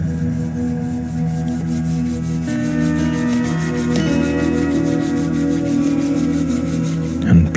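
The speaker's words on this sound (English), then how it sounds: "Now, rub your palms together." Palms rubbing briskly together during a guided relaxation, a steady close-up swishing friction that runs continuously for several seconds over faint background hum.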